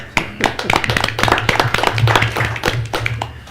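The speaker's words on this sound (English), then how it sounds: "I think everybody needs a second applause" People at a meeting clap together in a second round of applause, sharp distinct hand claps close by in an uneven rhythm, mixed with a low hum and some murmuring voices.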